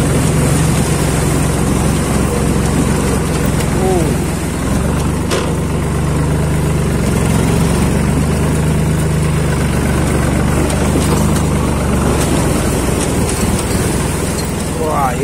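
A tractor engine drones steadily and loudly at close range while driving through a rain-flooded stream, its low chugging continuous throughout as people talk over it.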